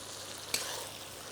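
Crushed red chilli and cumin seeds fry in hot oil in a pan, giving a faint, steady sizzling hiss with one brief crackle.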